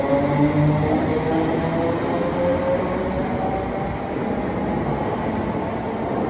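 ScotRail electric train in Glasgow, a steady rolling rumble of wheels on track with faint whining tones from the traction motors, constant and fairly close throughout, no voices.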